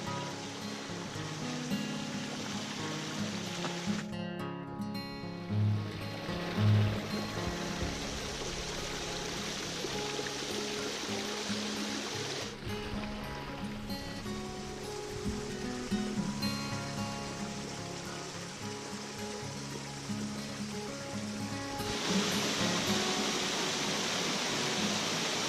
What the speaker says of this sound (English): this creek flows through everything